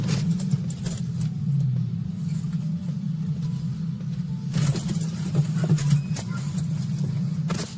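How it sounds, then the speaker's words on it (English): A police car drives to a call, its steady low rumble of engine and road noise running throughout at moderate level, with brief louder bursts of handling or movement noise. "This is going to be the cop car"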